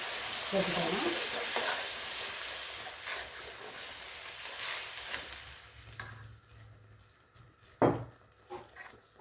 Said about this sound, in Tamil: இதை நான் வந்து ஒரு வெங்காயம் அரைச்சி போட்டுக்கலாம்.